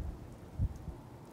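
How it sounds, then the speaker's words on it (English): Steady rain falls in a quiet setting in the video game Spirit Hunter Death Mark, a soft continuous hiss with faint low thuds mixed in. "Sound of the rain seems to make this place even quieter somehow."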